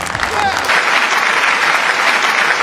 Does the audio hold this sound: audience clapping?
yes